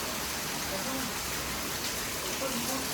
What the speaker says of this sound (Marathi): खूप पाऊस पडायला लागला. आवाज तर येत असेल तुम्हाला पावसाचा.